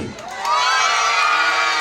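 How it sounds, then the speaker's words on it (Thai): Spectators, many of them children, cheer and shout loudly at an under-10 youth football final. The roar rises after a brief lull and stays strong and continuous to the end. "เราจะเช็คเสียงเชียร์กันดีกว่าว่าทั้งสองทีมพร้อมแค่ไหนส่งเสียงดัง ๆ นะครับ"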